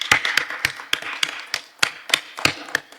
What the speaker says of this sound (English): we need to address a huge round of applause to our partners in Capital